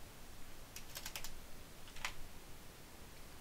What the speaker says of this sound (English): So let's just type in the same key term that we used last time.